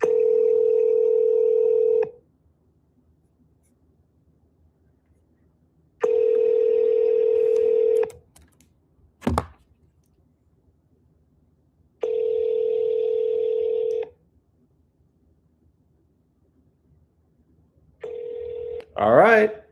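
Telephone ringback tones from speed dialing, long steady beeps repeating about every four seconds with silent gaps, a brief click in between and a short voice at the end.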